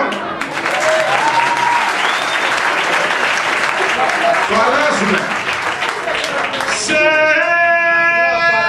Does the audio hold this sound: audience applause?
yes